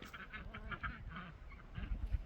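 Homestead fowl honk in a quick, irregular series of nasal calls, faint and somewhat distant, over low outdoor background noise with no talking.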